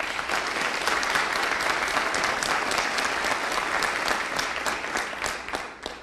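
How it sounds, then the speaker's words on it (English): A town hall meeting audience applauds in a steady, even burst of many hands clapping that holds at a moderate level for several seconds and tapers slightly at the end. "Those who believe yes, please applaud."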